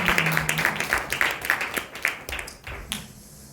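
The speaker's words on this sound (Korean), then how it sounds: "우리 하나님께 감사와 영광의 박수 올려드리겠습니다" Clapping from a church retreat audience, fairly close and loud, with distinct claps that thin out and fade toward the end.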